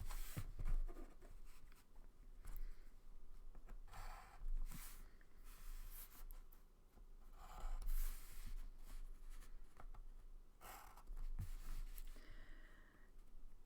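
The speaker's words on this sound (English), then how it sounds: "draw my straight lines with a ruler to make my triangles" A pencil draws straight lines along a ruler, giving faint, repeated scratchy strokes in short bursts with pauses between, close and quiet with no talking.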